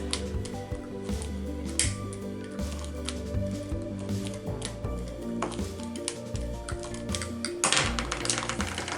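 Scissors cutting through stacked paper sheets for a pocket storage craft, giving a steady run of crisp snipping and crunching sounds up close over a busy background of music.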